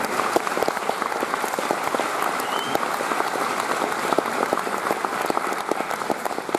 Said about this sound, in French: Chaque fois que je dis Jérôme et ses équipes, applaudissez.